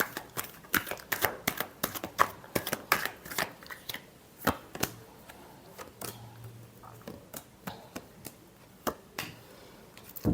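Tarot cards being shuffled by hand, a rapid run of close, crisp riffling slaps and flicks in an uneven rhythm, heard alone without speech.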